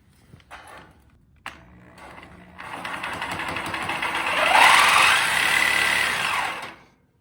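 A few sharp clicks and knocks come first, then a power tool spins up and cuts a metal angle on a trailer for about four seconds. It gives a loud, rising grinding whine that stops abruptly.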